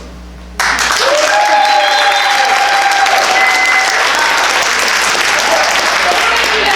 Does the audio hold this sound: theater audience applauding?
yes